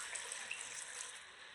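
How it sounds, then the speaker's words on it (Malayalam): Water is poured into a cooking pot, likely a pressure cooker, for a vegetable stew. It makes a faint, steady rushing splash for about a second and a half, with no voices. "വേവാൻ ആവശ്യമായ വെള്ളം ഒഴിച്ചു കൊടുക്കാം"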